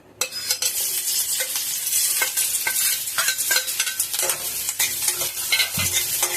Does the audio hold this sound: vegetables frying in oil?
yes